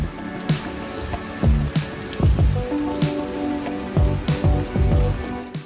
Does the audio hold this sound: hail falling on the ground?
yes